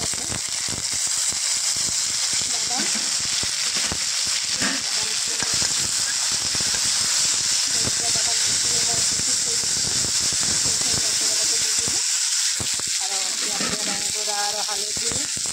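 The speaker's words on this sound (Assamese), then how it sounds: "পিঁয়াজখিনি ভাজি ল'লোঁ" Onions fry in oil in a pan with five-spice seeds, giving a loud, continuous sizzling hiss close to the listener, with a voice faintly present toward the end.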